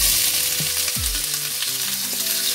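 Crushed ginger, garlic and peppercorns fry in hot coconut oil, a loud, steady sizzle running throughout with a few deeper clatters and scrapes of stirring mixed in; no one speaks.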